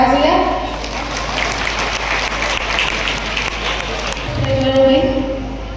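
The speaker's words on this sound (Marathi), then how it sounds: "सर्वजण आपण टाळ्या वाजवूया." An audience at a Shivpuja 2026 gathering in Tokwadi, Parali claps together in a dense, steady burst of applause. The clapping is loud and close and lasts throughout, with a brief swell near the end.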